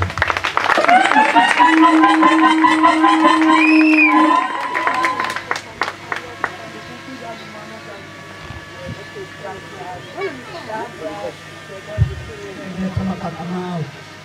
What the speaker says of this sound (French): Applaudissons pour le moment de grâce